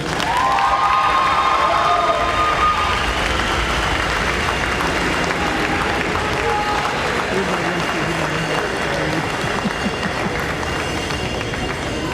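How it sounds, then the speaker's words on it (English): A crowd at a lacrosse game applauds and cheers loudly during an award presentation, dense sustained clapping with shouts throughout, and an announcer's voice briefly audible at the start. "Fans, please give a big round of applause from the Toronto Beaches to Willem Firth."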